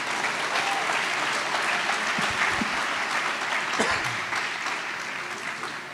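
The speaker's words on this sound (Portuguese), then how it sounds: "Dê um aplauso para Jesus." Church congregation applauding during a Portuguese-language worship service, a steady, dense clapping that fills the whole stretch and fades slightly toward the end.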